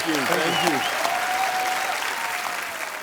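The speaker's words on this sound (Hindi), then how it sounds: "तो आप सबकी जोरदार तालियों के बीच इनवाइट करना चाहूंगा the very handsome, very talented Ritesh Deshmukh" Studio audience on The Kapil Sharma Show bursting into loud, sustained applause and cheering that fills the whole stretch, a dense wash of clapping from a large crowd.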